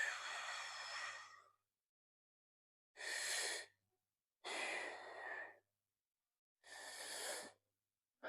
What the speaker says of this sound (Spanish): realizo de nuevo mi secuencia de bracing y de respiración